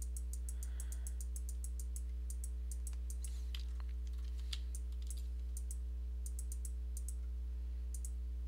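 Bursts of rapid mouse clicks while playing the idle game Cookie Clicker, quick dry taps in clustered runs with short pauses, heard close and fairly quiet over a steady electrical hum.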